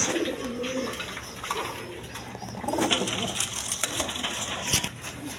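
A pair of high-flying Giribaz pigeons coo steadily against a dense, noisy background, with soft repeated calls running through without any talking.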